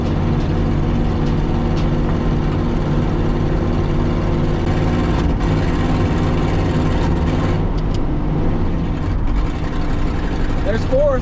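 A 1967 Ford F250 crew cab truck drives on a tire worn out of round, its engine and drivetrain making a steady, close low rumble. The cab rattles and shakes with occasional knocks throughout.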